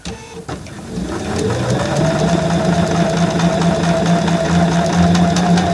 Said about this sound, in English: And I'll have to sew this pretty slow as well because it's pretty thick.